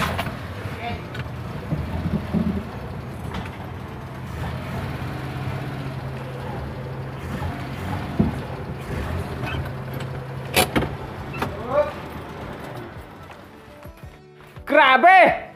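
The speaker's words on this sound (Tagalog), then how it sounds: "I-atras lang natin ng konti yung sasakyan kasi mahirap na ano." A small Multicab truck loaded with copra reverses a short way, its low engine rumble steady under continuous nearby talk, with a few knocks and a louder burst near the end.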